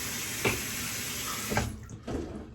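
Tap water running steadily in a bathroom sink during a shave, a continuous broadband hiss with a few brief splashes or knocks, cut off partway through and resuming quieter.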